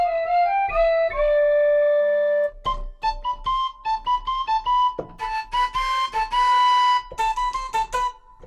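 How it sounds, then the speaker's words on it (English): Sampled whistle melodic tones, first held notes, then quick staccato phrases and trills, clear and fairly loud with no voices. "Some whistle sounds"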